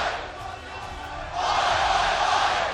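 A packed stadium crowd at an esports match roars and cheers for the Australian team, a broad sustained wash of voices that swells louder partway through and holds.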